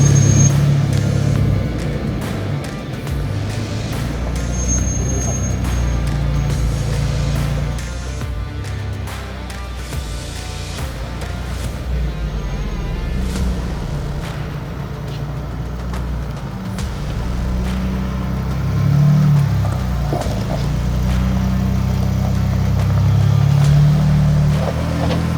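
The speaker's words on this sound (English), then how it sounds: "Now it's time for the big Land Cruiser 300." Toyota Land Cruiser 300 working through a 4x4 training course, its engine a steady low rumble that swells and eases as it climbs, loud and close throughout with no talking.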